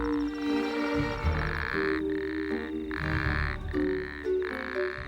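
An Arabian toad calls at night in rain-triggered breeding season, its throat pouch inflating to amplify a loud, buzzing trill repeated in steady pulses, close and alone with no talk.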